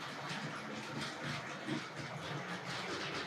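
A Tri-ang Hornby R.251 maroon 3F tender locomotive runs on a model railway layout, a steady faint rolling whir and rail clatter pulling a longish train, continuous with no voices.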